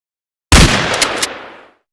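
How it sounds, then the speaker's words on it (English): A Remington rifle fires one loud, sharp shot from a motel balcony setting, followed by a rumbling echo that decays over about a second into silence. "a single shot fires from a Remington rifle and strikes the activist in the neck"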